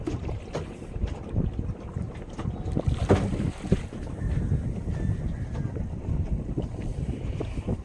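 Boat rocking on the sea close to a shoreline, heard as continuous wind and water wash with low rumbling and scattered knocks and splashes throughout, fairly steady and near, with no talking.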